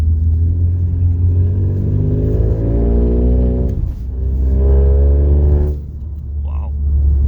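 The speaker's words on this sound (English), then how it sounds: "can open the sound pipe" A 2021 Suzuki Swift runs with its sport exhaust valve opened, giving a steady, loud, close engine drone that climbs in pitch, dips briefly, then rises again before settling.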